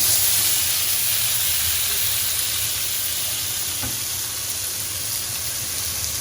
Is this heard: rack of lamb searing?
yes